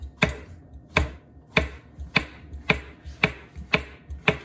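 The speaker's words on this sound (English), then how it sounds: "I'm just gonna take these mushrooms here, and I'm just gonna just slice them." Knife strokes slicing through mushrooms onto a cutting board, eight sharp, evenly spaced chops about half a second apart, close and clear.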